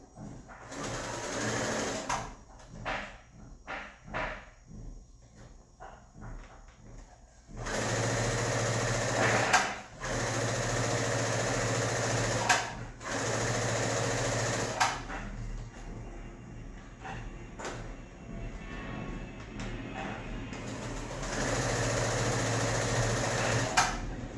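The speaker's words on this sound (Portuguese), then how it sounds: "costuro meu bolso e vou com um vai e vem para finalizar, para prender bem" Sewing machine stitching a fabric pocket, running in bursts with short stops and back-and-forth reverse stitches to lock the seam, steady whirring hum close by with no talk.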